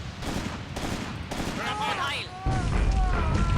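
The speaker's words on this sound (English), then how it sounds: "We're under fire." Gunfire during an ambush in Graviteam Tactics, a WWII war game set at Shilovo in 1942: a rapid crackle of distant shots over a low battlefield rumble, with whistling tones and a louder swell near the end.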